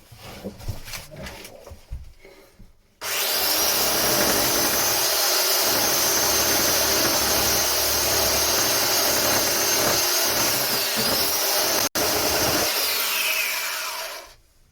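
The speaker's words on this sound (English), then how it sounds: "I've got to smooth the edges with the sides, you know, with a flat sander" Flat sander smoothing wooden edges, switching on after a few seconds of quiet handling and running as a loud, steady, close whirring hum for about eleven seconds, with one brief dropout, before winding down.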